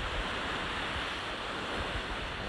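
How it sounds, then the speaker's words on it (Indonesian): Seaside wind buffets a Boya BY-MM1 microphone, a dense continuous roar of rumbling gusts mixed with surf, loud and unbroken throughout. "Kalau dengar bunyi angin tiup tu maksudnya masih tak berapa berkesan lah"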